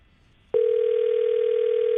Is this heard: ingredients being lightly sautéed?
no